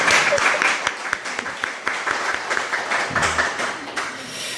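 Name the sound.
congregation applauding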